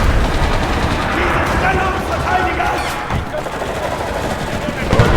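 A tank fires during battle in the Enlisted video game, heavy booms and rattling gunfire sounding throughout amid loud combat noise, with a voice talking over it.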